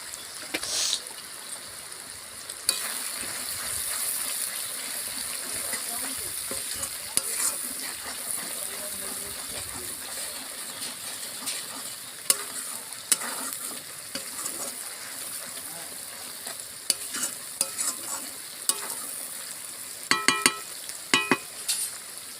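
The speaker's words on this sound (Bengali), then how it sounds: "এবার এটা ভাজা হচ্ছে" Spices sizzle and crackle steadily in a hot pan for a long stretch, with intermittent spoon scrapes and clinks while stirring.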